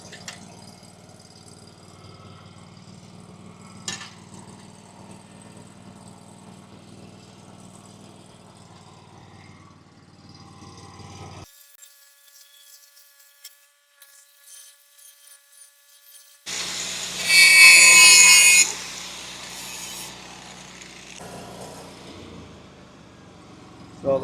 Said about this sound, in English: Now I'm just gonna cut my 2-inch piece